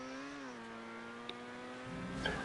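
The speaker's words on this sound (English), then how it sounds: "you can hear the engine roaring as he comes into the corner himself" A racing car engine roars in GTA V Online stunt racing, a steady high-pitched drone that dips in pitch as the car goes into a corner, then rises again with a brief tire scrub.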